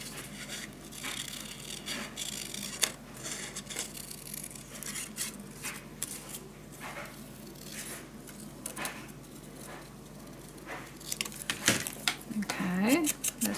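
Close scissors snip and slice paper being trimmed down for a mini album, with irregular cutting strokes and rustling amid faint room noise.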